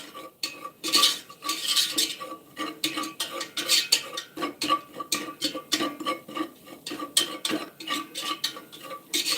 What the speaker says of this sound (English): whisk and begin to move this around